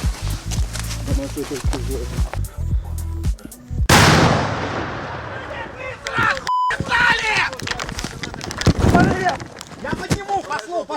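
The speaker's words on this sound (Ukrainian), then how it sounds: "Аж тут починає гатити російський танк" Russian tank firing on a front line, heard as a sharp, loud blast that cuts through ongoing talk and radio chatter, followed by a rumbling decay and later a second, fainter boom under voices.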